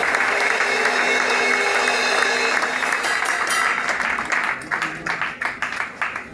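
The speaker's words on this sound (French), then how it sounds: "Et on donne des acclamations à l'Éternel." A congregation at a bishop's consecration applauds and cheers loudly in a dense, sustained roar that thins toward the end into separate, distinct claps.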